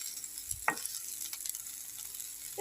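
Cauliflower and potatoes fry in a pan with a steady, fairly faint sizzle, broken by a short clatter of stirring near the start and no talking.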